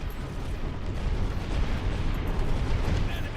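Mortar fire from a ship in the Treasure Planet: Battle at Procyon game comes as a continuous, loud, rumbling barrage of booms with no clear gaps between the blasts.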